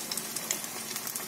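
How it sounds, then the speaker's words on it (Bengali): Prawn fritters frying gently in hot oil in a wok over low heat, a faint, steady sizzle with light crackling pops, quiet and close, with no voices. "তেল গরমও হয়ে গেছে, ছাড়ছি কড়ায়"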